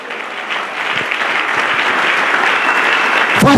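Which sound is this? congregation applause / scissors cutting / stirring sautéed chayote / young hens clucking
congregation applause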